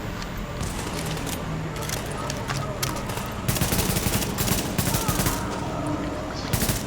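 Rapid bursts of gunfire from the shooter video game Tom Clancy's The Division, loud and continuous with dense crackling shots that intensify toward the end, with voices faintly mixed in.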